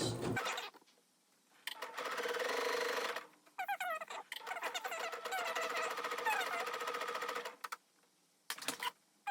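A sewing machine stitching picot elastic onto stable woven non-stretch fabric, running in fast rattling bursts of a few seconds separated by pauses, close and fairly quiet.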